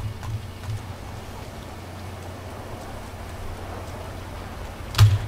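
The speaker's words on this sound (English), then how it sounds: "Come on guys, it's raining." Rain falls steadily in the GTA 5 Online video game, a soft, even hiss with a few faint drips and a louder thump near the end, with no voices.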